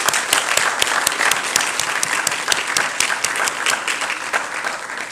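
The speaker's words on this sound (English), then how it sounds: "Let's give our scholars another round of applause." Loud, sustained applause from a crowd at a white coat ceremony honoring scholars, with many hands clapping in a dense, even patter and sharp individual claps standing out nearby.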